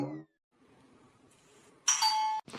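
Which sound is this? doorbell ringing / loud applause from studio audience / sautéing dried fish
doorbell ringing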